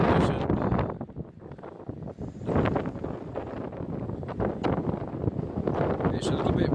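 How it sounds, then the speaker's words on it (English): Wind buffets a microphone on a coastal cliff top along the Cleveland Way. The roaring gusts are loud and continuous, rising and easing throughout. "It's a little bit breezy up here."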